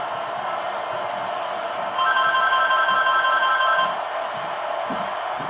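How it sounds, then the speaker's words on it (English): A telephone rings in the NCAA Football 11 video game, LSU against Florida, with a steady electronic ringing tone lasting about two seconds mid-clip, loud over a constant crowd bed. "Just the phone ringing."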